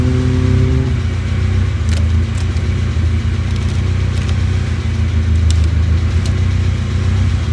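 A 1990 BMW E30 318is engine runs steadily, its low continuous rumble filling the whole stretch with a slight shift early on and no talking.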